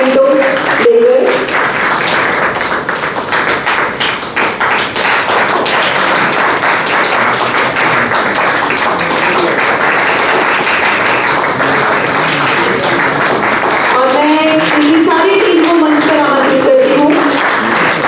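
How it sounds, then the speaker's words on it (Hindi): Loud, sustained applause from a theatre festival audience, steady dense clapping lasting throughout, with a voice speaking over it near the end. "जोरदार तालियां"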